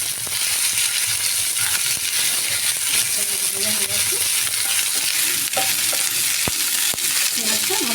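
Cloves, cardamom, whole cumin and dried red chillies fry in hot oil for a potol korma, a steady loud sizzle with stirring scrapes and a few small clinks throughout.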